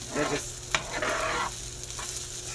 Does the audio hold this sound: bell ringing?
no